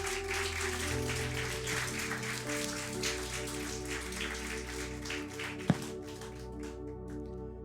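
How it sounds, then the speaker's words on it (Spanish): A church congregation applauds during a worship service; a steady patter of clapping runs throughout over sustained music, with one sharp knock near the end. "Denle un aplauso al Señor."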